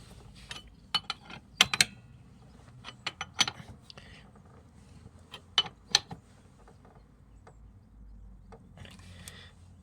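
Sharp metallic clicks and ratcheting ticks come in irregular bursts as a bolt is tightened on an MBK Booster scooter, close and fairly quiet, with pauses between turns.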